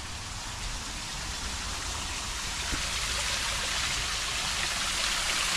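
A river running through a drainage system under what used to be a main road, a steady, broad rushing of water that stays loud and even throughout, with no voices.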